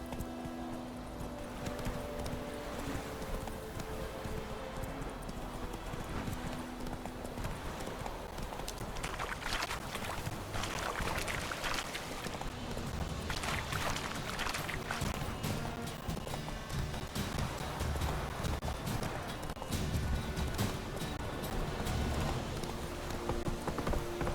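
Horse hooves clip-clopping in The Witcher 3 video game, a steady loud rhythmic trot that runs continuously under game ambience and music, with no talk.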